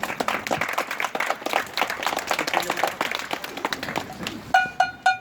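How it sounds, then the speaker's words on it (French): Crowd applause at an outdoor political rally in Amiens, uneven clapping with some cheering that rises and falls in bursts, and a voice begins speaking at the end. "Applaudissez-le."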